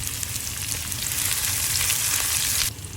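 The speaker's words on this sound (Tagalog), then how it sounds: "Isunod na natin ang sariwang puting sibuyas. Ayan, hahalo-haluin natin yan." Garlic and fresh white onion sautéing in a pan, a loud continuous sizzle with bursts of crackle as the pieces are stirred, cutting off abruptly near the end to a quieter hiss.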